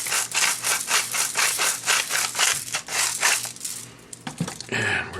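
Coarse ground salt is mashed and ground with a spoon in a bowl, mortar-and-pestle style, for a prime rib roast; repeated gritty scraping and crunching strokes come in a steady rhythm, close up, followed by a brief clatter.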